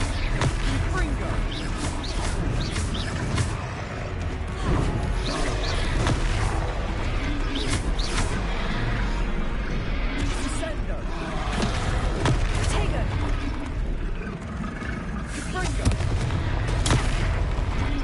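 Repeated Confringo blasting-spell explosions and combat booms from the Hogwarts Legacy video game, a dense continuous barrage of bursts and rumbles running throughout with battle effects and occasional voices mixed in.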